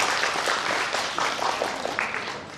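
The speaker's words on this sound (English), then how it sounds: "please big applause for our keynote speaker." An audience at an international academic seminar claps for the keynote speaker, a dense patter of many hands, fairly close and steady, easing slightly toward the end, with no talk over it.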